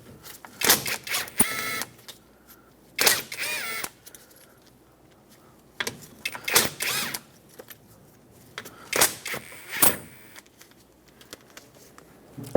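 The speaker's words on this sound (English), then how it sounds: "Use a 10mm socket and remove the 4 mounting nuts that hold the fan blade onto the fan" A 10mm socket spins off the four mounting nuts holding the fan blade to the fan clutch on a 1995-2004 Toyota Tacoma 2.4L, in short bursts of close, sharp ratcheting and tool whirring separated by quiet gaps.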